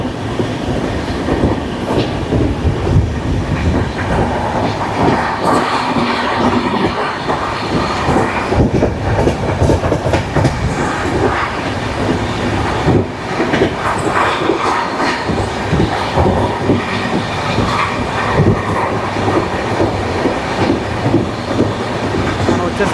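The Kirandul passenger train (58501) runs from Visakhapatnam toward Araku with a loud, continuous rumble and rhythmic clickety-clack of wheels on the rails, heard from on board throughout.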